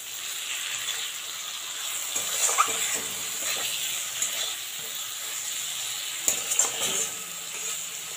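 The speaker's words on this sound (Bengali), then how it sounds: "এবার একটু নুন দিলাম, একটু চিনি দিলাম, এগুলোকে ভালো করে মিশিয়ে নেব" Tangra fish curry ingredients with brinjal, salt and sugar are stirred in a hot pan, giving a steady sizzling hiss with occasional soft scrapes of the spatula.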